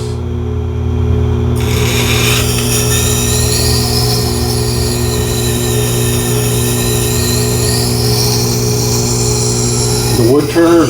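A Tormek sharpener runs a WoodTurners Wonder CBN wheel, grinding steel dry with a steady, loud whir and continuous abrasive hiss at close range. Speech is faint beneath it.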